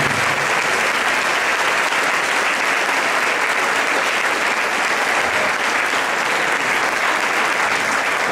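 A church congregation at an anniversary service applauds loudly and continuously, a dense, even roar of many hands clapping throughout with no voices on top.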